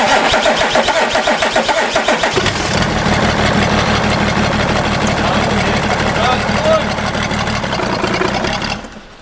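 A BMW 330 engine cranks and catches, then settles into a loud, rough idle with a coarse, agricultural clatter that continues steadily before cutting off near the end; people talk over it.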